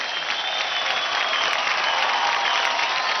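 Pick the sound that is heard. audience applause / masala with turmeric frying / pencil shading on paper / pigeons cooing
audience applause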